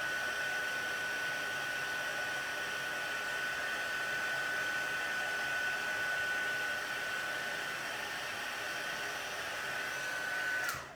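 A heat tool melting embossing powder on paper, a constant loud blowing whir with a steady high whine that runs unbroken before cutting off abruptly at the end.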